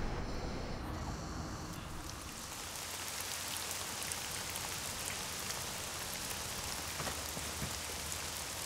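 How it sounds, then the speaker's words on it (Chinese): Heavy rain pours down in a dense, steady hiss of drops drumming on surfaces, loud and continuous throughout with no voices. "下那么大雨还去？"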